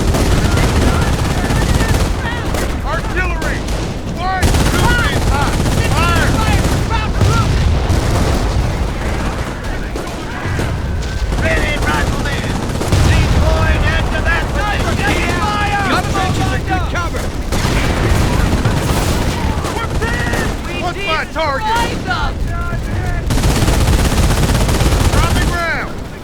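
Battle sounds from the Company of Heroes Omaha Beach mission: dense, loud bursts of machine-gun and rifle fire with heavy booms, nearly continuous, while soldiers shout over the din.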